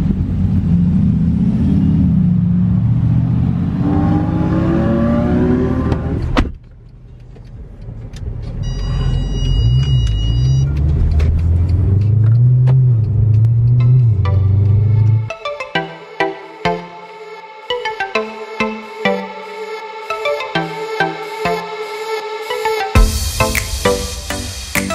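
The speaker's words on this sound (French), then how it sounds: "Là toutes les voitures sont en train de sortir du parking, on quitte l'hôtel." Cars pull out of a hotel parking lot on a Croatian road trip, loud engine rumble and revving close by, shifting between vehicles, with intermittent beeping tones and clunks toward the end.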